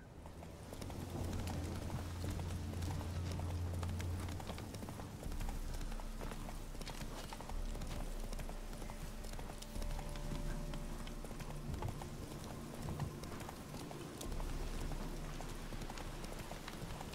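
Roach, a horse in The Witcher 3, clip-clops steadily on the road, a continuous rhythmic patter of hooves at moderate distance under a low ambient bed, with no talk.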